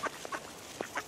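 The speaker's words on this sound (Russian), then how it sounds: "Ой, уточки, молодцы." Several short duck quacks in a quiet space, spaced irregularly with two pairs of calls, close and fairly clear over faint background hiss.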